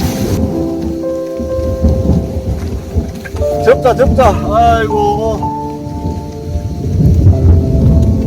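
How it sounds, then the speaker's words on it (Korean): Heavy rain pours down during a thunderstorm at a crucian carp fishing spot, with rolling thunder rumbling throughout and a voice speaking briefly over the downpour. "번개가 너무 많이 친다."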